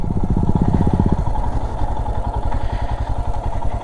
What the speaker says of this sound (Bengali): এই হলো অফরোড বাইকের মজা ভাই